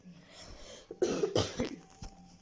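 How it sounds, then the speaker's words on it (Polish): A few harsh, close coughs in a quick burst, with a throat-clearing rasp between them, standing out against a quiet background. "Przepraszam bardzo za mój kaszel."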